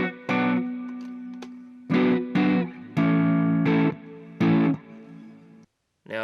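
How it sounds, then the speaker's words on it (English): Electric guitar played through a Mooer GE300 multi-effects unit with heavy distortion and reverb, several loud sustained chords and short bursts separated by brief gaps, ending in near silence. "I don't think I want as much reverb while I'm pushing the distortion"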